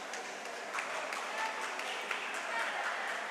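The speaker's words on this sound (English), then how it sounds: "See her teammates cheering her on again." At a high school swim meet, teammates cheer and clap for a swimmer racing 500 yards, a continuous mix of distant shouts and applause echoing through the natatorium.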